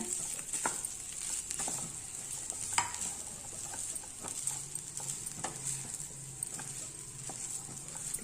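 Cooked rice for capsicum rice being stirred and mixed in a pan, with faint sizzling and repeated soft scraping and tapping strokes, quiet and close without talk.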